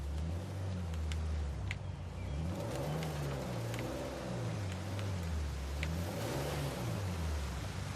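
A vehicle engine roars while driving in the video game Uncharted 4, holding a loud, continuous drone that rises and falls in pitch as it revs, with scattered clanks and rattles on top.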